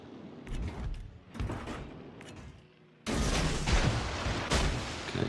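Naval gun salvos in World of Warships: Legends, a few distant muffled thuds followed by a sudden louder crashing barrage of heavy fire with rumbling tail, no talking over it.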